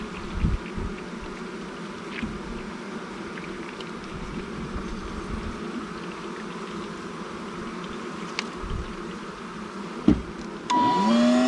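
A steady, low insect drone of bees fills an abandoned RV, a continuous buzzing hum heard close and fairly loud, with a louder burst of noise near the end.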